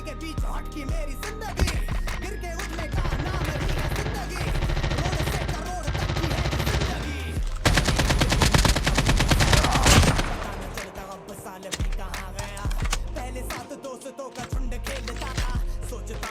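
Gunfire in the mobile shooter COD Mobile: repeated rapid automatic bursts over game music, heaviest in a dense volley around the middle, with a voice speaking at times.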